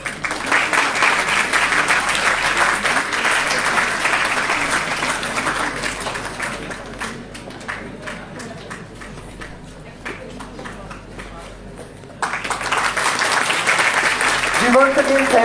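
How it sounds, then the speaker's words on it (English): An audience at a skills and employability workshop applauds steadily. The clapping thins and fades midway, then swells back loudly near the end. "A big round of applause for Mr. Tarun Sharma."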